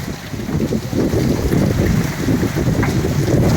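Heavy rain storm with strong wind during a thunder and lightning downpour, a dense, steady roar of rain and gusting wind that stays loud and constant throughout, with no voices.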